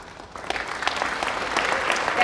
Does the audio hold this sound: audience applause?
yes